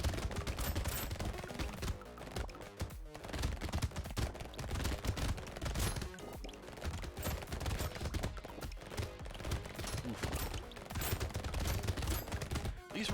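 SMG gunfire in the Brotato video game rattles in rapid, continuous bursts at low volume, a dense stream of shots with no talk.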